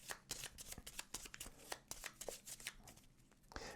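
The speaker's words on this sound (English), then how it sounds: "We're going to take our bounty cards, we're going to give them a shuffle" Board game bounty cards being shuffled, a quick run of crisp riffling flutters and soft slaps repeating steadily throughout, close and fairly quiet with no talk.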